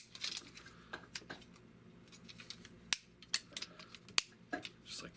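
Plastic Titans Return Sentinel Prime Transformers toy parts clicking and snapping as it is folded into space shuttle mode, several sharp close clicks scattered over a faint background hum.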